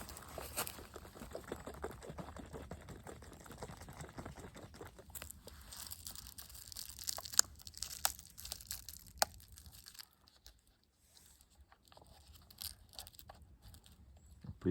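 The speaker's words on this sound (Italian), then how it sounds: "Apriamo la copertura in alluminio." Aluminium foil lid peeled off a Starbucks Caffè Latte cup, a close run of crinkling and tearing for about ten seconds, then quieter scattered crackles and taps.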